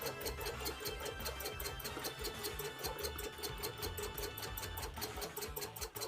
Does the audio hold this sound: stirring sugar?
no